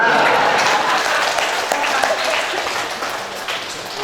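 Steady audience applause from a crowd at a vocational school event at SMKN 1 Buahdua, dense continuous clapping that holds for several seconds and eases slightly toward the end.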